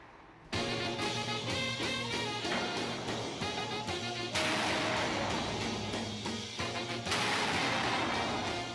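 Gunfire at a shooting range sounds as three heavy, booming shots spaced a few seconds apart, each with a long ringing reverberant tail.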